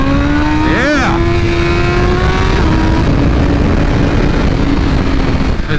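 A 2021 BMW M1000RR superbike with a BT Moto ECU flash accelerates hard, its engine note climbing steadily through the revs, with a sharp rising whine as it pulls. Loud, close and continuous, heard with wind roar.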